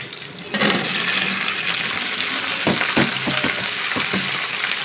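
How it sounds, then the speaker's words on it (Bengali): Chopped onion and green chili sizzle and fry in hot oil in a pan, with a loud, continuous crackling hiss close by and a few soft knocks of stirring toward the end. "আমি এই যে এইদিকে পেঁয়াজ কুচি আর কাঁচা লঙ্কা দিয়ে দিলাম এগুলো হালকা নেড়ে ছেড়ে দেবো"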